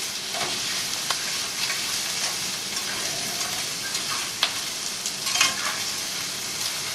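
Food sizzles steadily in a hot frying pan while it is stirred and tossed, with scattered clatters and bumps of utensil on pan over a constant crackling hiss.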